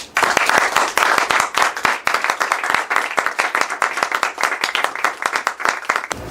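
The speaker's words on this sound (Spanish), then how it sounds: "Un aplauso a todos esos coautores de nuestras esperanzas." Audience applause at a tribute event on folk traditions, a loud, dense burst of many hands clapping close by, sustained for several seconds without speech.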